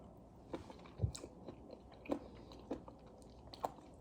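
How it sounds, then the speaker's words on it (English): Mushroom chewed on its own, apart from fufu and soup, as a quiet, close series of soft crunches and wet bites at an irregular pace. "If I want to chew my mushroom, I chew it on the side without my fufu."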